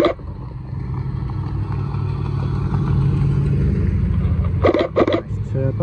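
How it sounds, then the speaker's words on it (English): Sports cars rumble steadily as they pull away from a car festival in the rain, with a couple of louder engine bursts near the end and some faint voices in the background. "the cars are leaving because of it."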